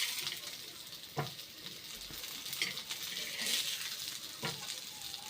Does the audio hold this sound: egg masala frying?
yes